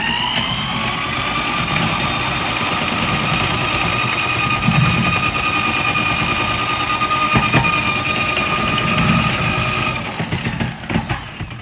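RIDGID drain cleaning drum machine running with auto feed pushing its spinning cable into a drain, a steady loud motor whine with mechanical whirring and clanks, winding down near the end.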